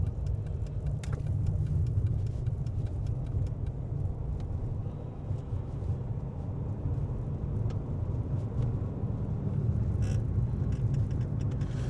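A Fiat Panda 169 drives down a road at night, giving a steady low engine and tyre rumble heard from inside the car throughout, with no talking.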